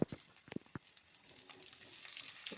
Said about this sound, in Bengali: আমি পেঁয়াজগুলোও ভেজে নেব